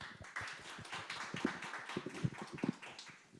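Audience applause welcoming the president of Kukmin Daily to the podium at a launch ceremony for a mentoring program, a steady patter of many hands clapping at close range with no talk over it.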